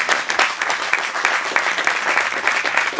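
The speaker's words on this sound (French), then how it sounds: "Et je vous prie d'applaudir." An audience applauds warmly, a dense, continuous patter of many hands clapping at once, loud and close throughout.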